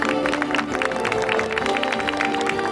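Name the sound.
applause at a charity campaign ceremony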